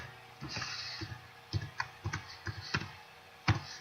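A computer keyboard clicks in a short, uneven burst of about ten key presses while a file name is typed, quiet and close, with no voice.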